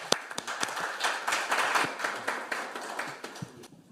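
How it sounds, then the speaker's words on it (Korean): Seminar audience at a National Assembly event claps in welcome, a modest scattered round of applause with distinct individual claps, fairly quiet and thinning toward the end. "김규욱 교수님을 힘찬 박수로 환영해 주십시오"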